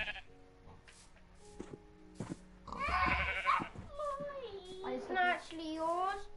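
Sheep bleat in a Minecraft game, with several wavering, nasal calls in the second half over a low background hum. Children talk around them.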